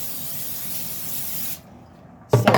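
A steady aerosol spray hisses onto tin foil for about a second and a half, stops, and then a brief louder clatter follows at the end.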